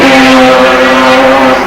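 Wesbank Modifieds race cars from 1988 roar past on the Durban street course, a loud, sustained engine drone with steady pitch filling the whole stretch.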